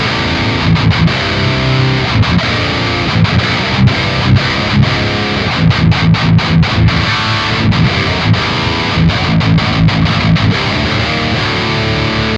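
Dense high-gain metal guitar plays through a ToneX Driftwood amp capture with an Engl cabinet, loud and distorted, with tight palm-muted chugs and fast rhythmic stops.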